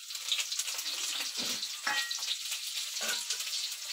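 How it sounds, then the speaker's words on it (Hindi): Potato and eggplant sizzle and fry steadily in a hot pan with onion and tomato, a dense continuous hiss broken by a few stirring scrapes, close and fairly loud. "एटा कौन आलू बैगण भजा ना आलू बैगण फ्राए"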